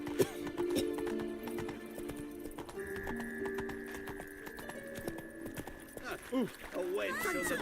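A horse's hooves clip-clop at a steady trot in The Witcher 3, ending in a whinny, while game speech and music run over the hoofbeats.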